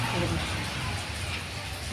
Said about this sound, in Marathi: पावसामध्ये चालू बाहेर खूप पाऊस चालू